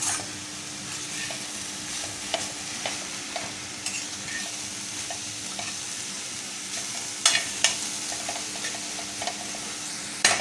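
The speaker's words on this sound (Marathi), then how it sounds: "चला आता आपण परतून घेऊया." Coconut and jaggery modak filling being sautéed in a pan, with a steady sizzle and frying hiss throughout and repeated clinks and scrapes of a spoon stirring against the pan, no talking.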